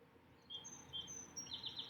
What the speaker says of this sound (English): maybe you can hear all these birds and really nice things going on